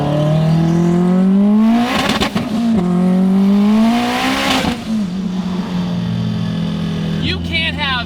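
A 1000HP Subaru STI's engine drones loud and close while driving, its pitch climbing steadily and then dropping sharply at each gear change, with a continuous mechanical whine from the fuel pumps beneath.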